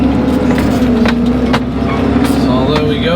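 A farm vehicle drives round a field while muck is collected for cattle bedding, its engine a loud, steady low drone close by, with faint rattles and knocks over it throughout.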